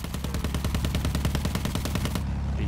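Sustained automatic fire from a machine gunner in a trench in Battlefield 1, a rapid rattling stream of shots that continues steadily before cutting off, with loud low booming underneath.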